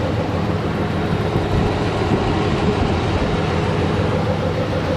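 A 2003 Dodge Ram Hemi pickup with about 415,000 miles idles steadily up close, giving a continuous low engine rumble with no break and no talk over it.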